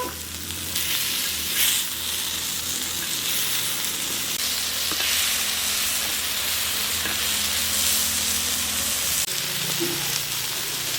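Crab pieces tossed and frying in a hot oiled pan, a loud continuous sizzle with bursts of stirring and scraping close up, easing slightly near the end.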